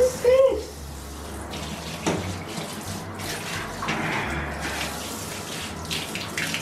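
Water runs steadily from a tap into a tub while a husky puppy is bathed, a continuous rushing hiss with a brief squeaky whine at the start and voices talking faintly over it.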